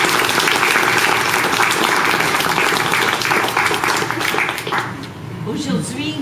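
Wedding guests applaud the parents in a continuous round of clapping that fades toward the end, with voices mixed in.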